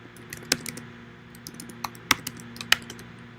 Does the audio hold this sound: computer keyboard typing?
yes